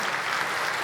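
A keynote audience at a tech conference gives a brief burst of dense, even applause that fills the whole moment.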